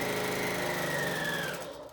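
A sewing machine runs steadily along a long fabric seam, a close, continuous motor whir that slows and fades at the end, with no talking.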